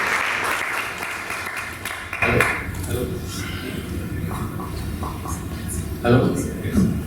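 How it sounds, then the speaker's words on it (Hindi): Applause from an audience at a closing ceremony for an anti-drug campaign, a steady wash of clapping that rises in a couple of brief surges, with a voice on a microphone speaking over it. "इस बार जोरदार तालियां"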